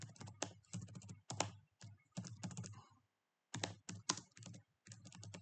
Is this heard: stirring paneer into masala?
no